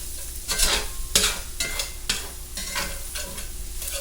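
Sausage browning in hot grease for a sausage gravy, a steady crackling sizzle with bursts of spoon stirring scraping through the pan, close and moderately loud, no voices.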